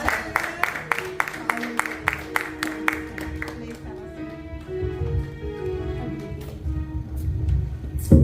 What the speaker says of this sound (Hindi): आइए एक बार फिर डॉक्टर पास्टर क्रिस्टीन के लिए और पास्टर क्रिस के लिए जोरदार तालियां।